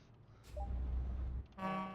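A MAN truck's horn sounds in a short, bright blast near the end, following a low rumbling engine passage.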